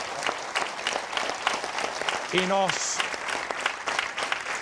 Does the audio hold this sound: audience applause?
yes